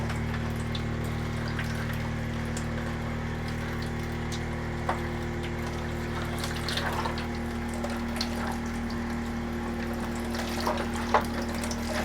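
Water runs steadily over a wet plate collodion photograph during a rinse in a darkroom trailer, a constant close hiss of flowing water with a few small splashes and drips near the end.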